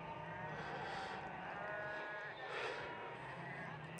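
A flock of sheep bleats faintly and at a distance while being herded toward a bedding ground on a hot evening, with a few drawn-out calls over a steady outdoor hiss.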